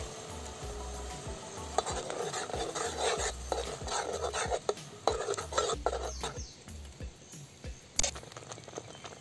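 Tomato paste for chana masala is stirred into a hot frying pan, giving a continuous gritty scraping and rubbing with light sizzle and occasional sharper knocks of the utensil.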